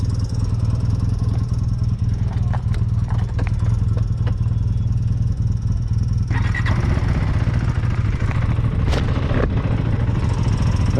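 A restored 1978 Yamaha XS650 motorcycle rides the Tail of the Dragon at Deals Gap, its engine droning loudly and steadily with wind rush throughout.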